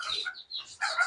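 A white desi hen with her chicks gives brief, close, high-pitched clucking and peeping calls in a quick burst of about a second.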